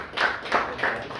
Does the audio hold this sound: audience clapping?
yes